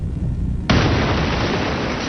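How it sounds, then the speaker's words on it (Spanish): A bomb blast planted beneath a heavy conference table at a wartime military headquarters erupts as one loud, sudden burst, then gives way to a dense, sustained roar of noise with no voices. "Esta sólida mesa que salva a Hitler desvía la explosión que mata a 4 hombres y causa heridas a otros 20."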